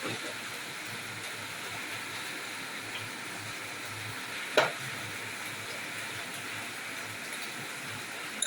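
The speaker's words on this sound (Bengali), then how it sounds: "সেগুলোকে তেলে আমি ফ্রাই করে নেব" Small cut pieces of taro (mankochu) frying in oil in a pan, a steady, soft, hissing sizzle that carries on evenly throughout, with one brief sharp tap near the middle and no talking.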